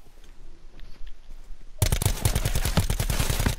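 Gunfire in Call of Duty Black Ops 4 Blackout, starting after a quiet moment with faint distant shots, then a loud rapid burst of automatic fire rattling steadily to the end.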